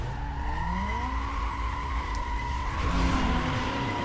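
Race car tires skid and squeal in Need for Speed Most Wanted, with a loud continuous engine drone and shifting whine throughout; the squeal grows harsher near the end.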